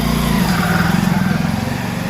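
A motorbike engine buzzes steadily up close while riding through a narrow, congested lane crowded with pilgrims and e-rickshaws near the Baba Baidyanath Dham temple in Deoghar, a continuous high-pitched drone throughout.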